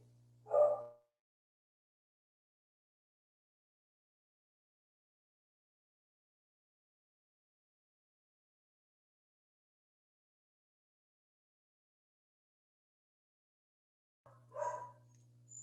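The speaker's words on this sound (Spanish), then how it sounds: "hoy estos perros se alteraron completamente" Two short bursts of dog barking and yelping, one at the very start and one near the end, separated by a long stretch of silence.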